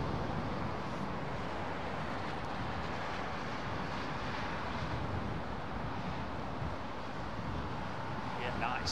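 An Embraer E195 airliner at London Heathrow in high winds: a distant, steady jet roar blends with gusty wind noise throughout, while someone talks over it.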